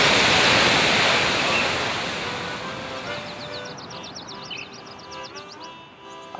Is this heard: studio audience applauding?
no